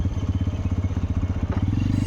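A motorcycle engine on a hill road near Sevok runs close by with a loud, rapid pulsing throb and a little clatter, steady for about two seconds with no talk.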